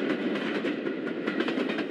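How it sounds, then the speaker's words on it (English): A steam tank engine pulls away with a steady rumble and a rapid, even clatter of wheels and wagons rolling close by, heard alone without voices. "After Standard Tank had left, N2 returned to his favourite siding"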